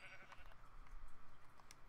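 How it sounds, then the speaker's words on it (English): Sheep bleating in a video game, a short series of faint bleats over a soft game ambience, with no talk. "There's a sheep! There's two sheep."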